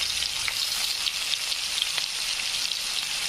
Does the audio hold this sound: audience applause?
no